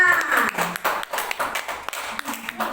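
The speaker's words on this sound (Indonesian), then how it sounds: "Mana tepuk tangannya?" A small classroom group claps for students coming forward to present, a thin, uneven patter of separate hand claps, fairly close, with faint voices underneath.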